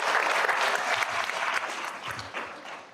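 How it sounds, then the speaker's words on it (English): Applause fills the room at a school board of education meeting, a dense steady clapping from the audience that tapers slightly toward the end, with no talking over it. "Let's give him another round of applause."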